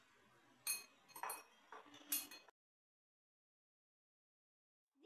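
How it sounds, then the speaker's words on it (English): An egg being whisked in a bowl for a microwave vanilla mug cake: a few quick clinking bursts of metal against the bowl, then silence. "We have to whisk it properly."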